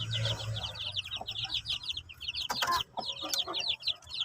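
Month-old shamo chicks separated from the hen cluck and peep in rapid, overlapping chirps close by, with a brief louder burst midway and no talking.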